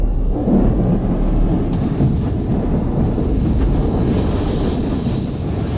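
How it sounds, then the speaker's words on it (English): Thunder rumbles in a steady deep roar during a storm over a port, loud and sustained throughout with no voices. "Mr. Bennett, the storm is too strong."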